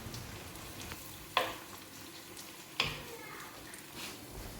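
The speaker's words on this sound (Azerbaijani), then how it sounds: "Ardından isə yaşıl şirin biber əlavə edirəm." Steady frying sizzle from a pan of tomato and green sweet pepper for a green bean dish, broken by two sharp stirring scrapes around the pan, close and moderately quiet.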